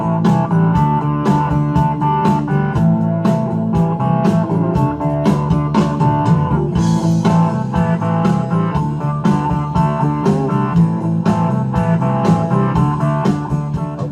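A Band-in-a-Box guitar backing track plays loudly and continuously, with a full arrangement of drums, bass and chords looping in a steady groove and no speech over it.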